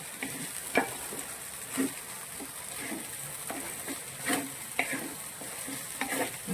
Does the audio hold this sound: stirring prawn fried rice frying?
yes